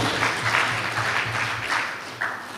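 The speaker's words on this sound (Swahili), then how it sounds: "Muongezeni makofi" Applause for a speaker at an interfaith religious leaders' peace conference, a dense wash of clapping from a large audience, loud and steady before tapering slightly near the end.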